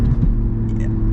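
A loud Audi RS3 engine and exhaust rumble steadily and deeply while driving, a throaty low drone filling the whole moment, with a faint whispery voice over it.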